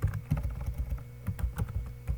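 Dense, rhythmic clacking of a computer keyboard as C code is typed in Turbo C++, the keys landing close and fast with no pause.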